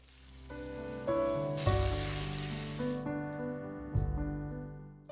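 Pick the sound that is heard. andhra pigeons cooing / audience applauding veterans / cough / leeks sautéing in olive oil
leeks sautéing in olive oil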